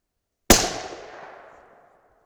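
A 6.5 Creedmoor rifle firing a 130 gr Sierra GameChanger bullet in Peterson brass, fed from the magazine: a single loud, close shot with a long decaying echo, no voices.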